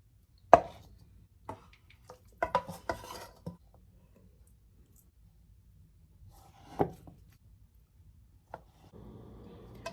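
Knife chopping parsley, cilantro and lovage on a board in a home kitchen, a few sharp, sparse cuts scattered through an otherwise quiet clip, with light clatter near the end.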